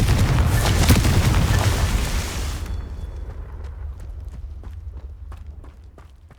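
A Confringo blasting spell going off in Hogwarts Legacy, a loud booming explosion that rolls and rumbles, then decays into scattered debris patter and footstep-like clatter.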